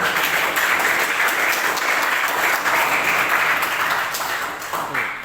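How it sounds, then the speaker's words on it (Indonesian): Classroom applause for students after a demonstration, many hands clapping in a dense, continuous roar that holds steady for several seconds and thins slightly at the end. "Oke, kasih aplaus buat kalian semua."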